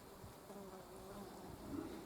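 Bees buzzing in a garden in Gilnahirk, Belfast, a faint, continuous low drone heard alone for about two seconds.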